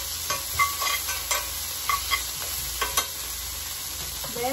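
Garlic sautéing in browned butter for mashed potatoes, a steady close sizzle broken by repeated scraping strokes of a spoon stirring in the pan, with no voices.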